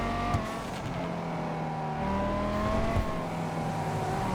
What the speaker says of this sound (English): You hear those little crackles and just the sound of the engine.